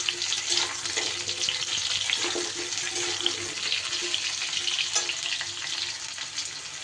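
Sweet potato pieces sizzle and fry steadily in a pan alongside other vegetables, a continuous close crackle with occasional stirring scrapes and no voices.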